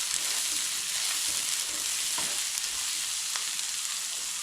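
Ingredients for a roasted-coconut chicken curry sautéing in a pan with salt, a soft, even sizzle with occasional light scrapes and taps of stirring, fairly quiet and steady, no voices.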